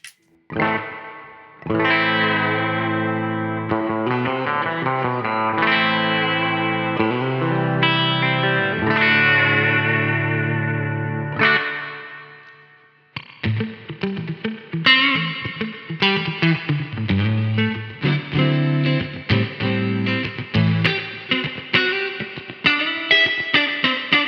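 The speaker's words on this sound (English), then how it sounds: "if you go to that vintage channel, for example, I want to show you the spring reverb." Electric guitar through the vintage channel of a NUX amp with spring reverb, sustained chords ringing out for twelve seconds, a brief gap, then choppier strummed passages with a wet, splashy tail; no talking.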